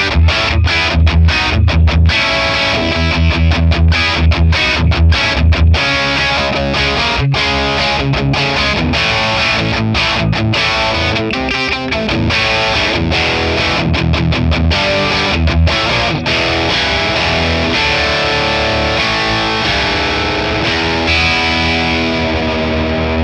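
Heavily distorted electric guitar played through a Friedman PLEX amp capture with reverb off, dry and upfront, chugging rhythm riffs and sustained chords in an 80s hard rock tone, loud and continuous throughout.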